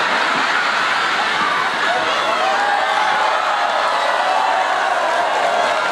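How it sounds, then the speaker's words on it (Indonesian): An audience at a stand-up comedy show claps and murmurs in a steady, moderately loud wash of applause and crowd noise that runs the whole time without a clear break. "Ya tepuk tangan buat enam tulang."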